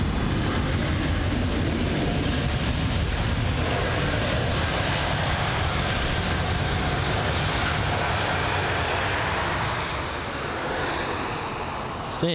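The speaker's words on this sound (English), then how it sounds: "So there's the Virgin Atlantic aircraft." Virgin Atlantic airliner at London Heathrow, a steady broadband engine roar held loud for about twelve seconds and easing slightly near the end, with no talk over it.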